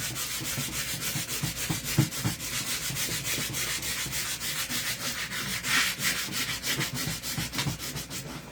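Hand sanding of a wooden house cutout: a steady, close scratching rub of sandpaper on wood in repeated back-and-forth strokes, continuous throughout with no talking.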